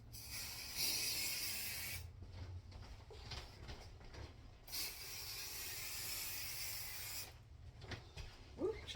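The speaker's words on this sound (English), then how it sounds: "we got to give it a spray" A spray can hisses in two long bursts over spring decor, sharp and close, with quieter gaps and rustling in between.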